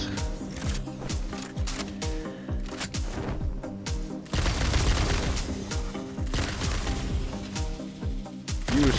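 A homing weapon fires in the Satisfactory factory-building video game, a rapid rhythmic string of punchy shots over a musical bed, with a louder burst of blasts in the second half.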